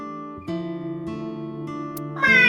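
A character in the video game AI: The Somnium Files imitates a cat's meow toward a lucky cat statue, the voice drawing out a few tonal mewing notes that rise into a brighter cry at the end.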